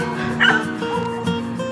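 A large group of about forty dogs, just unloaded from a vehicle, bark, yip and whimper together in a loud continuous close chorus.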